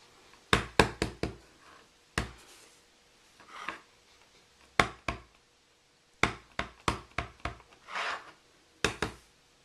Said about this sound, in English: I'm going to stamp it on just a piece of Whisper White cardstock.